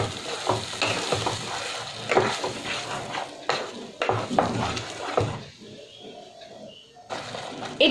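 Spinach paste and cottage cheese are stirred in a frying pan, with close, steady scraping and clattering of a spoon over a sizzle that drops away briefly before the stirring resumes.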